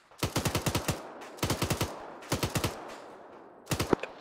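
Bursts of automatic gunfire from friendly troops in a military shooter video game, four rapid volleys of five to seven sharp shots each, loud and close with short pauses between.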